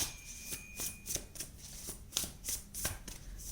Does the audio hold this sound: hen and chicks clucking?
no